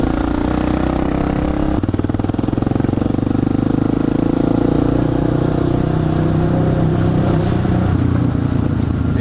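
A Suzuki DR 650 supermoto motorcycle engine roars steadily and loudly throughout a ride on the road, a rough mid-pitched drone with a slight shift in tone near the start.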